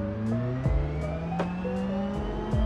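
Simulated car engine in the BeamNG driving game revving up through gears, its steady drone rising in pitch and dropping at several shifts, with brief broadband bursts at each change, alone without talk.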